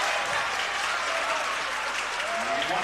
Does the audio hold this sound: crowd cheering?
yes